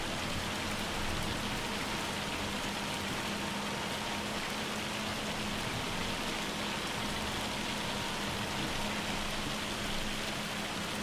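Hail falls in the farming video game Farming Simulator 25, a dense, even hiss of pattering ice that goes on steadily and loud without a break.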